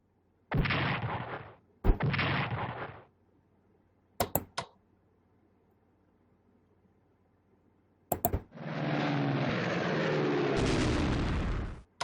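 Aircraft combat in the Strategic Command WWII strategy game, with a bomber attacking: two loud bursts of gunfire, a few sharp cracks, then a longer sustained blast of explosive firing, separated by silence.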